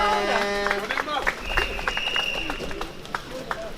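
A crowd at an outdoor street protest against pension reform claps, a scattered, uneven patter of hands mixed with chatter, a nearby voice and some tonal background noise.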